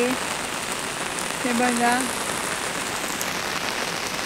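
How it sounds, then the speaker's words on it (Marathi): Heavy rain falls over flooded farm fields in a constant dense hiss. A voice speaks briefly at the start and near the middle. "हे बघा कसा पाऊस पडतो इकडे"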